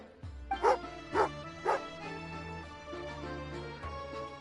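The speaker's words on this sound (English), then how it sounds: "Oh, angry doggy." A dog in the video game Genshin Impact barks angrily three times in quick succession, close and clear, followed by a softer whimpering yip over a faint background score.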